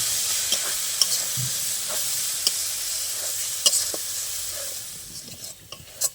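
Mustard paste sizzling in hot oil as it is stirred for a fish curry, a steady bright fizz broken by scattered scraping taps of the spoon against the pan, with the frying quieting toward the end.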